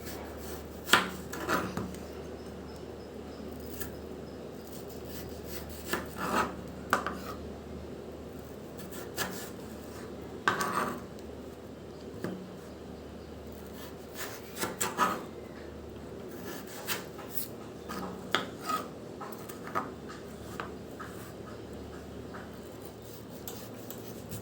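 A knife slices potatoes into strips in a home kitchen, producing faint, scattered scraping and cutting sounds at uneven intervals over a low background hum.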